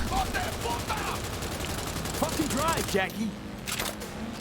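Rapid bursts of gunfire in Cyberpunk 2077, fired from a moving car window, crackle loudly over engine noise and music, with a voice speaking partway through.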